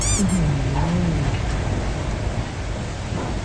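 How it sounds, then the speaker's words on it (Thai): Heavy rain pours down steadily around a truck being driven in the mobile game Truckers of Europe, a dense, loud hiss that fills the whole stretch, with a brief tonal hum near the start. "ฝนตกแรงด้วยนะครับ ข้างนอก"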